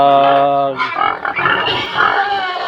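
Loud, close pig grunts and squeals in a rough, continuous run, with other animal noise mixed in.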